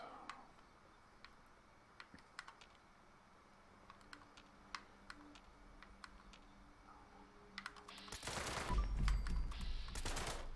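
A video game assault rifle with a faster fire rate fires as sparse, faint clicking shots early on, then breaks into a loud, dense burst of rapid fire near the end.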